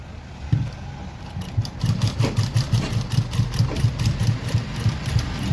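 A sewing machine stitches around the neckline of an umbrella gown, its motor thumping in a quick, even rhythm that starts up and runs steadily close by.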